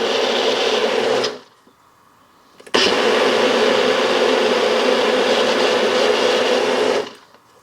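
A NutriBullet blender whirs at a steady, loud, high-pitched buzz in a home kitchen, stopping for about a second and a half, then starting again and running for several seconds before cutting off, with no talking.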